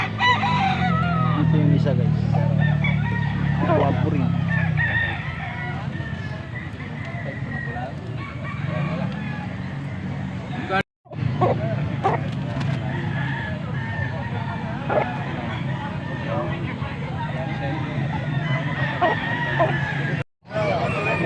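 A rooster crows at a gamefowl sale in Angeles, Pampanga, with a few crowing calls standing out over a busy outdoor crowd, people talking and bargaining nearby, and passing vehicle noise.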